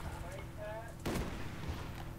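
Gunfire from the video game Call of Duty: Black Ops, a sharp broadband burst about midway through, with a second softer shot shortly after, over a steady game-sound bed and music.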